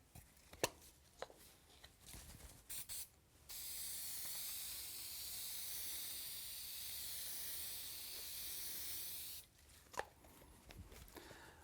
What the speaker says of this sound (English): I put a light coating of spray adhesive on the back of the liner